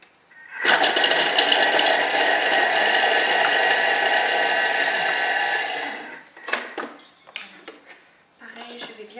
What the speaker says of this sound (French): Je vais hacher l'oignon et l'ail 5 secondes, vitesse 5.